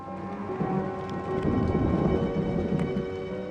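Rain falls steadily over an old Roman bath construction site while a low thunder rumble rolls underneath, a continuous heavy storm wash with no voices.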